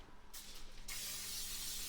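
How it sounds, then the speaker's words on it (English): A spray bottle hisses close by, misting bread dough: a short burst, a brief pause, then a longer steady spray that continues to the end. No one speaks. "Just spraying these nice and good."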